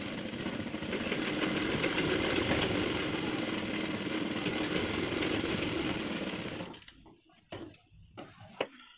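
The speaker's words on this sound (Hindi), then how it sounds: "बराबर सिलाई लगा लेना है" A sewing machine hums in one continuous run, stitching along a folded fabric strip for a decorative latkan, close and steady for about seven seconds before stopping, followed by a few soft handling clicks.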